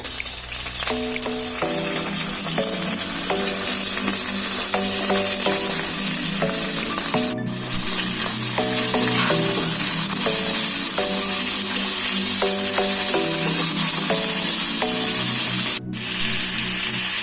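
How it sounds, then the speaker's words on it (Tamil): Mutton liver frying with onions and curry leaves crackles and sizzles loudly and continuously in the pan, with a melodic music track playing underneath. "இப்ப லிவர் சேர்த்துக்கலாம்."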